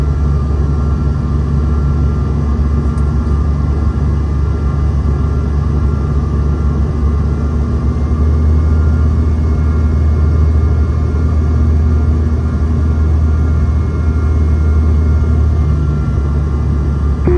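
Steady, loud engine drone from a Delta regional jet coming in to land, a constant low rumble that holds unchanged for the whole stretch with no voices.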